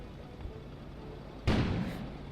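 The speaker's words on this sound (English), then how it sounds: "explosion suddenly occurred outside." A single deep boom of an explosion goes off outside in the video game Kona, sudden and fairly loud, followed by a rumbling tail over a low ambient background.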